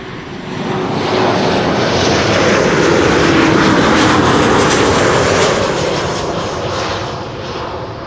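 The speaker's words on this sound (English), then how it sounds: "KLM flight 1402, 737-800 arriving from Paris, Charles de Gaulle." A KLM Boeing 737-800 arriving at Schiphol Airport roars past, its jet engines swelling into a loud broadband rumble and roar, then slowly fading away.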